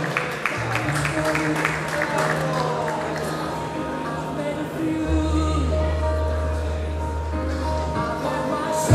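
Applause from the audience at a women's figure bodybuilding and fitness championship in Ciechanów, a moderate clapping crowd under a loud, sustained music bed with low tones throughout.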